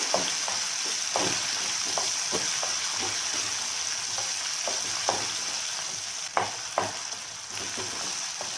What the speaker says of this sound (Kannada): ನೋಡಿ ಇವಾಗ ಟೊಮೆಟೊ ಕೂಡ ಹಾಕ್ತಾ ಇದ್ದೀನಿ ಟೊಮೆಟೊ ಕೂಡ ಮಿಕ್ಸ್ಗಾಗಲಿ